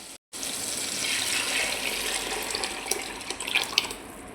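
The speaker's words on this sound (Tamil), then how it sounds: "இதை எடுத்து அப்படியே ஊற்றிக்கலாம்." Fish curry gravy poured into a clay pot, a steady close splashing and trickling pour that grows more uneven toward the end, fairly quiet and without speech.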